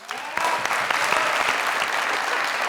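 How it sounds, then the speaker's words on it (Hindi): Audience applause at a stage show, steady dense clapping from a crowd sustained for a few seconds, fairly close and even in level with no talking over it. "यस, तालियां होनी चाहिए"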